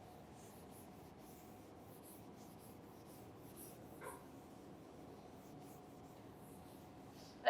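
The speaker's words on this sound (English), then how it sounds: "let me maybe give myself more space and I will write it here" Marker or chalk strokes on a board during a cryptography lecture, faint scratchy writing against a low room hum, ending in a sharp louder knock, with no voice heard.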